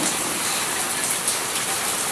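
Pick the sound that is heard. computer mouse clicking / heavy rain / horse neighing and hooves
heavy rain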